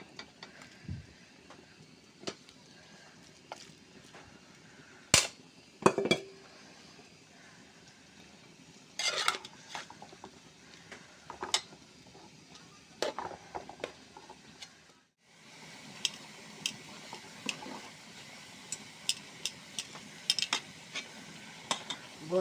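Washed taro stolons cooking in hot oil, a quiet sizzle broken by sharp clanks and scrapes of a spoon against the pan, growing busier in the second half, with no voices.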